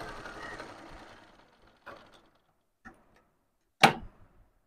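A zig zag sewing machine being stitched by hand in short bursts, a few separate whirring runs and clicks with a louder sharp clack near the end, near and fairly quiet.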